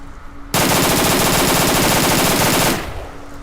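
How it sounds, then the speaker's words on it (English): Automatic gunfire in the video game STALKER: Shadow of Chernobyl, a loud, continuous rapid burst lasting about two seconds that starts abruptly and then fades out. "Yeah, he's shooting at me. Right, I can shoot back."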